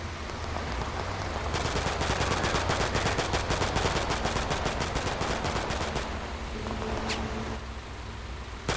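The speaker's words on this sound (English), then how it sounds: "RPGs are firing on us." Heavy gunfire rages in the Total Conflict: Resistance war game as RPGs fire: dense, loud, rapid bursts of shots and impacts crowd almost the whole stretch, then thin out near the end with a few sharper reports.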